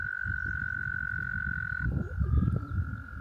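Toads croak in a pond at Black Moshannon State Park, a dense chorus of rapid low pulsing calls running steadily throughout, with a sustained high trilling tone layered over it and a louder burst of croaking near the end.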